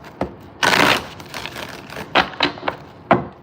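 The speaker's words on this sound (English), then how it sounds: "One more shuffle." Tarot deck shuffled by hand at close range: a long riffling burst followed by several short, sharp card slaps and taps, clear and alone without talk.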